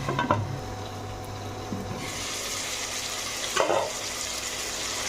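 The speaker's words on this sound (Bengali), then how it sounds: "অনেকটা ভাজা ভাজা হয়ে গেছে" Tomato and potato fry in a pan with a continuous sizzle. Occasional scraping bursts come from stirring, and no one speaks.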